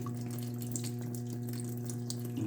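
Water runs into an LG washing machine with an IE fill error, a steady close trickle over a low electrical hum, with no talk.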